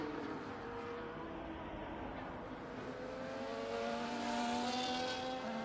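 A race car in a racing video game drives the Monaco Monte Carlo circuit, its engine droning steadily with a rising whine as it accelerates, steady and moderately loud with no voices over it.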